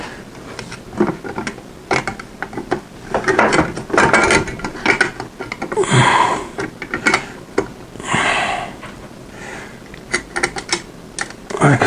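Small screws being driven into a controller during assembly, a busy run of clicking, ratcheting tool sounds and handling clatter, close and moderately loud, with a few brief louder scraping bursts.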